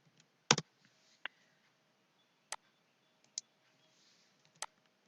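Sparse, crisp clicks of keys on a computer keyboard as code is typed, a few isolated taps and a short double tap spaced irregularly, close and quiet over a faint background hiss.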